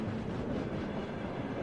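A freight train passing in a film scene gives a steady heavy rumble with soft wheel clatter, constant in level and alone without speech.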